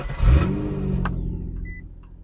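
An Infiniti G35 coupe engine starts up close by with a quick, loud flare of revs that settles into a steady idle, followed by a short, high electronic chime.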